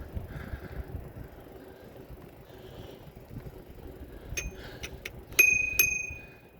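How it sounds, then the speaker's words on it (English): Two bright dings from a bicycle bell on a Marin bike, rung crisply on a multi-use trail over soft riding noise and wind. "That's my bell."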